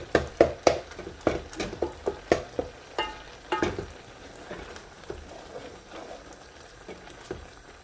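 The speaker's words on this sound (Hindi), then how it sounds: "इस चम्मच की मदद से इसको हल्का सा मैश भी करते जाएंगे" A spoon knocks and scrapes against a pan in a quick series of sharp taps while mashing cooked mustard greens, then softer scraping with faint sizzling underneath.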